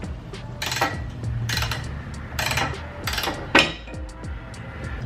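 A ratchet with a 1/2 inch socket works rusty bolts on a Toyota Tacoma, giving bursts of rapid metallic clicking in several separate runs, with a sharp clank in between, close and fairly loud.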